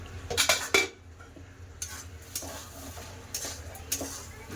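Metal lid clattered onto a cooking pot of Bengali vegetable-and-shrimp chorchori: a sharp cluster of clinks up close, then quieter scattered taps and scrapes of utensils.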